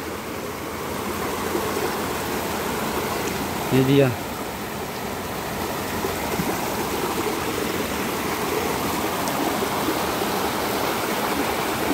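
Steady rushing of a clear, cold mountain river over big rocks, a loud continuous flow with a brief spoken phrase partway through.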